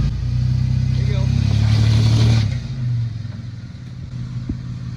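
A Toyota FJ Cruiser crawling over an off-road obstacle on a mountain trail, its engine droning and revving under load for a couple of seconds before easing off, with clatter and a voice calling out directions.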